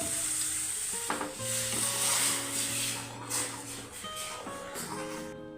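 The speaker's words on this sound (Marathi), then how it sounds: "आता थोडं थोडं असं घालून मला पाणी घ्यायचं।" Hot water goes a little at a time into semolina roasting in a pan for rava sheera. A steady sizzle and bubbling hiss plays under soft background music, with a few light clatters.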